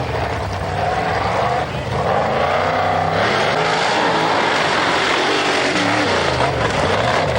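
A rally car with a roaring, high-revving engine powers through water puddles on a stage, its loud sustained drone mixed with a rushing splash of spray and a commentator talking over it.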